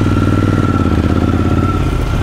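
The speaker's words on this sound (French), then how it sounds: "c'est pas une moto qui aime bien rester à l'arrêt avec le moteur qui fonctionne" A Triumph Scrambler 1200 XE motorcycle engine idling at a standstill, a loud, close, steady throbbing rumble with even pulses and a faint whine throughout, with no talk.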